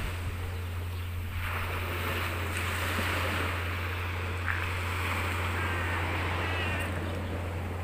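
Soft, continuous sea surf washes on the shore in the distance, with gentle swells rising and falling over a steady low hum, no voices present.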